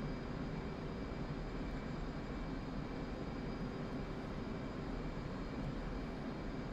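Steady, unbroken jet engine roar of an F/A-18C Hornet in the DCS flight simulator during air-to-air refueling over the Nevada map, with an even drone and no voices.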